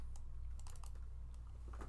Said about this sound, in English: Got some pro typing skills.